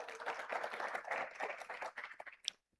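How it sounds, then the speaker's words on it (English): Audience applause at a forum as a guest comes up to the stage, a broad wash of clapping that rises and swells steadily before thinning into a few scattered claps and stopping abruptly. "Give him a big round of applause as he comes up."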